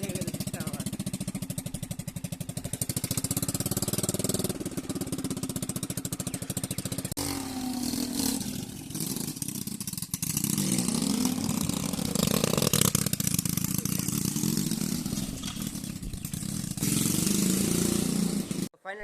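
A Swaraj tractor engine runs in a farm field with a continuous throbbing, rumbling drone that rises and falls slightly over time, with the sound cutting off abruptly at the end.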